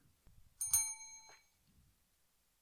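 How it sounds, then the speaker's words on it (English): One bright bell ding rings out and slowly fades, heard close and fairly soft, with faint low murmuring just before and after. "that was a weird bell"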